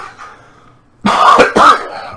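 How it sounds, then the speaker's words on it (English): A person coughs twice in quick succession, loud and close, after a moment of quiet. "sorry about the cough."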